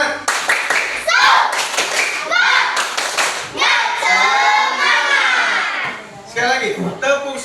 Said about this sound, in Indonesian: bagaimana kalau kita tepuk semangat dulu? Tepuk semangat.